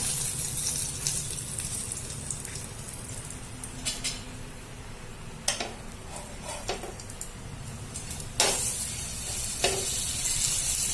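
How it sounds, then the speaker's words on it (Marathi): A buttered sandwich toasts on a pan over low heat, giving a gentle continuous sizzle. A few sharp clicks and scrapes from handling the pan break through, and no one speaks. "वरच्या बाजूला बटर लावा दोन ते तीन छान छानपैकी खरपूस भाजून घ्या"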